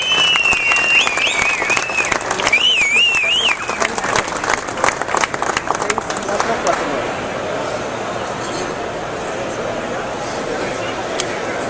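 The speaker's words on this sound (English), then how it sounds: "how about a round of applause for the Afterburner, everybody?" Crowd applause and cheering at a car showing for the Afterburner, a Ringbrothers Fairlane custom build; dense clapping is loud at first, drops in level after a few seconds and carries on steadily throughout.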